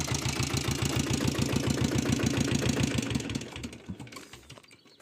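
A diesel Royal Enfield Bullet idles close by with a steady, rapid thudding knock, then is switched off, the pulses slowing and fading into near silence.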